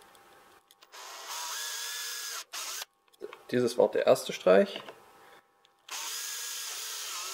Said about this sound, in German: Nachdem wir die Löcher jetzt gebohrt haben